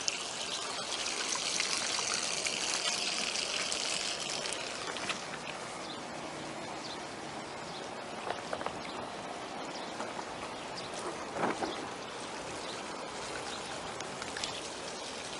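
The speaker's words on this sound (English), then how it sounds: "the water's coming over right here" Water spills over the lowest spot of an Aqua Dam impoundment pool in Scotia, California, a steady close trickle and splash with a few brief clicks.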